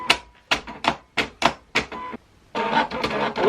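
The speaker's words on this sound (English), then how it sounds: "on here there's a little cutter machine" A Silhouette cutting machine runs a cut, making a series of short rhythmic mechanical whirs and clicks, about seven quick bursts, followed by a longer steadier stretch of motor noise, close and clear.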